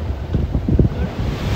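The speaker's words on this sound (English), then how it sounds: "My god, this much waves!" Ocean waves crash and surge loudly around a boat on the sea off Gokarna, with rough wind buffeting the microphone in a short, continuous roar.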